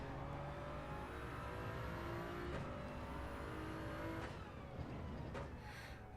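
Toyota Supra GR3 race car in a racing video game, engine revving up through gears with quick short shifts, each rising whine cut by a sudden gear change, steady and fairly quiet.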